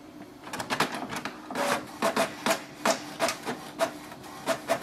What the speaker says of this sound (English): Printer is working.